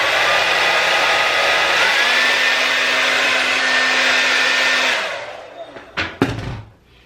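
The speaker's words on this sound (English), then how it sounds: "So I'm gonna blow dry it a little longer." Hair dryer blow drying a closure wig, a loud steady whoosh held for about five seconds, then switched off, followed by a few brief knocks and clatters.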